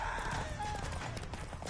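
Roach, the horse in The Witcher 3 video game, gallops with brief rhythmic hoof clip-clops over steady background game ambience.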